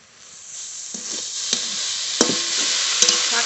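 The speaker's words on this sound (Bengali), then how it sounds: "ঢাকনা তুলে শাক নেড়ে নেব।" Greens simmering with turmeric in a pan are stirred once the lid comes off: a steady sizzle and hiss swells, broken by several sharp scraping strokes of the spoon against the pan, close and clear.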